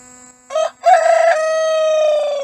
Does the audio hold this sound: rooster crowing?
yes